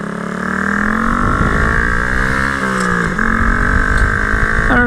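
Honda Grom motorcycle ridden hard, its small engine buzzing loudly and close with rising and falling revs through gear changes, a constant strained drone without any talking.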